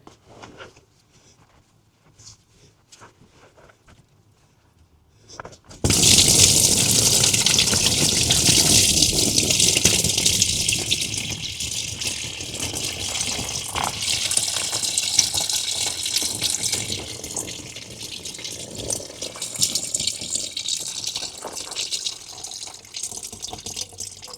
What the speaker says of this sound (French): on va pouvoir venir vidanger notre système de refroidissement en démontant cette durite et ce collier et en laissant le tout couler dans notre bac